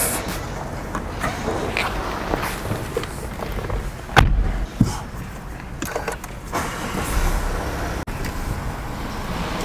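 Mazda 6 diesel sedan pulling away on a drive, with a low engine rumble and road noise heard from inside the cabin, a few thumps and clicks, and a steady hum that builds as the car gets moving.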